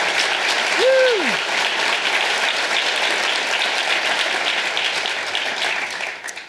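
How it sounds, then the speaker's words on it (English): Steady, full applause from the audience at a community foundation's annual meeting, loud and continuous. A short whoop rises near the start, and the applause thins slightly toward the end. "Let's all give these individuals a round of applause."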